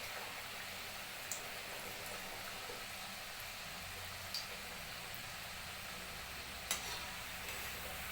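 Champakali snacks, a spicy Diwali treat, fry in hot oil with a steady, dense sizzle, broken by a few soft stirring clinks.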